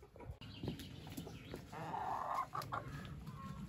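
A small rooster clucks softly nearby in a quiet mountain setting, a few short low calls over faint background noise.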